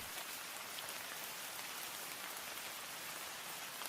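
Steady heavy rain drums on a pool house roof, a dense continuous hiss with no gaps, fairly loud and close, with no voices.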